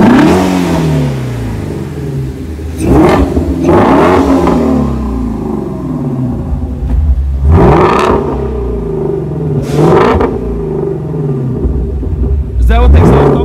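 A 2018 Ford Mustang Shelby GT350 engine revs hard several times in loud bursts over a steady idle rumble, close by, with people talking in between.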